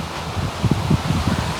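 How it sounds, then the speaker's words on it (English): Wind gusting through a tree in a Portland, Oregon neighborhood, producing a brief close rustle of leaves with soft buffeting bursts against the microphone. "Wow, this tree is very windy right here."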